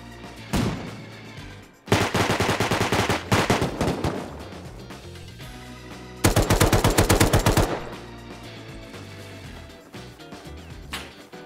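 Suppressed gunfire in a video game, heard as several rapid bursts of close automatic shots with short single shots between them, loud and sharp against quieter game ambience.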